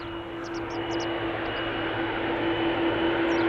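A KLM Boeing 777-200 spools up its jet engines with a steady tonal whine over a broad roar that grows slightly louder, while faint birdsong chirps briefly in the background.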